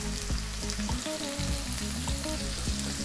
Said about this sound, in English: next up we're going to drop in our onion, which is cut nice and small